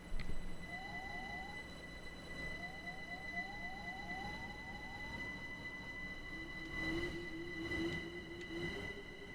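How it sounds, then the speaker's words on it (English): A two-car train rolls along a track in Minecraft, giving a steady, even rumble with a faint, high, steady whine, continuous for the whole stretch and with no one talking. "Yep, this is a 2-car train."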